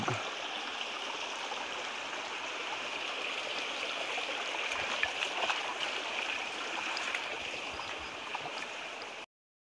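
Steady rushing water of a flowing stream, a constant broadband wash with faint occasional splashes, no voices.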